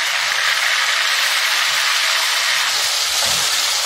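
Raw mutton pieces hit hot ginger-garlic paste in a karahi, setting off a loud, steady hissing sizzle that holds evenly from start to finish with no talking.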